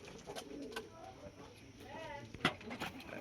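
Pigeons at a home loft, a black-tailed bird among them, give soft low coos that sit faintly in the background, with a brief sharper call rising midway through.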